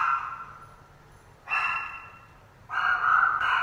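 Dogs barking indoors in two or three sustained, somewhat muffled bursts separated by short pauses, moderately loud against a quiet room with no talking.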